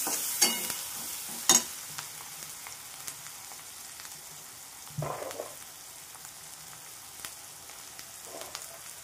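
Potatoes and peas tipped into a pan of fried spices for aloo matar, giving a few brief stirring clatters and a soft sizzle, mostly quiet with sparse scrapes.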